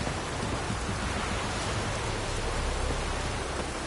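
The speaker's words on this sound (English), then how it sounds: "It's raining." Steady, dense rain pours down in The Witcher 3, a continuous even hiss with a soft low rumble beneath and no voices.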